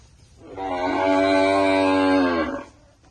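A Sahiwal cross cow gives one long, loud, close moo lasting about two seconds, rising in and fading out against a quiet background.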